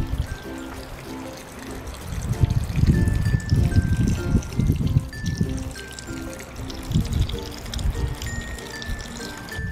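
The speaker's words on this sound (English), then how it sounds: "My water fountain did work." Water trickles and splashes steadily over stones in a small homemade rock fountain on a front porch, a continuous close babbling flow with no voices.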